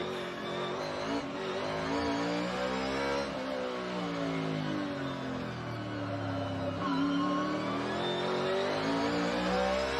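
NASCAR race car engines at a qualifying session at the LA Coliseum, loud and continuous, with rising and falling revs as cars accelerate and pass, warming tires on track; no speech.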